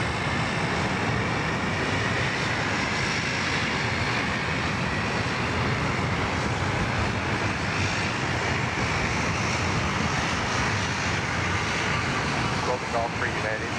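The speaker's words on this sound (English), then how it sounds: "So here comes United coming in from Los Angeles" A United airliner arriving from Los Angeles roars steadily at Sydney Airport, a broad continuous engine rumble that stays loud and close throughout without fading, while voices talk over it.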